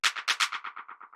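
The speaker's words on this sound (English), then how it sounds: "This is like the little kind of delay claps that you hear in a lot of these kind of tracks." A short clap sample from a melodic techno beat repeats through a delay effect, about ten quick echoing hits that start bright and loud and fade steadily in a tight rhythmic tail, alone with no other sounds.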